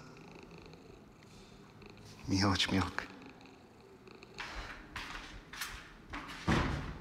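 A small kitten purrs close up in a soft continuous rumble, broken by a few thuds and door-like bumps, while someone speaks briefly nearby.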